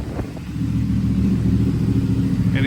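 CFMOTO Ibex 450 motorcycle fitted with a Yoshimura exhaust and DNA Stage 2 air filter idles on a dyno, a steady, loud, close low engine rumble that holds constant throughout with no talk.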